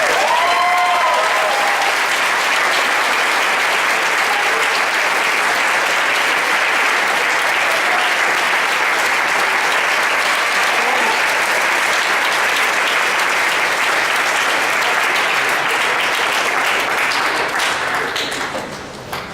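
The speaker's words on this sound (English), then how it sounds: "we will simply applaud and congratulate them for the Semper Fidelis Award." Sustained audience applause at a band award ceremony, a dense, steady wash of many hands clapping that holds loud for nearly twenty seconds before easing off at the very end.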